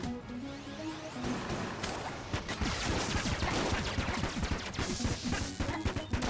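The Scattershot gun in Enter the Gungeon auto-fires in a rapid stream of crackling shots, loud and close, following a brief melodic game tone at the start.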